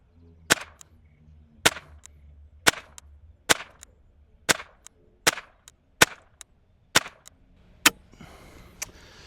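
Ruger 10/22 rifle firing a magazine of rounds at a playing card 75 yards out: nine sharp cracks spaced about a second apart, each loud and crisp with a short ringing tail, no voices between them.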